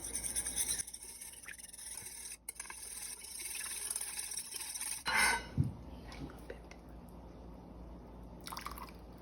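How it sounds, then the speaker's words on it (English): Dressing whisked by hand in a bowl for a pork belly and apple slaw, giving a faint, close scraping and rubbing with a few liquid drips, then a brief louder clatter near the middle before it goes quiet. "let's whisk it up first"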